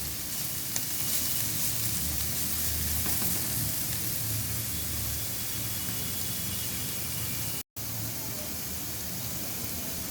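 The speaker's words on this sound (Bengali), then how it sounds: "ভাজা ভাজা হওয়ার জন্য আমি একটু ছড়িয়ে দিচ্ছি" Potato bhaji spread out in a pan sizzles with a dense, even hiss close up for ten seconds, unbroken apart from a brief dropout near the end, with no voices.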